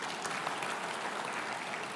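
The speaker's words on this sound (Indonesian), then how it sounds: "Kasih tepuk tangan bagi Tuhan kita." A church congregation claps together during a sermon, a dense, steady wash of applause lasting a couple of seconds at moderate loudness with no talking.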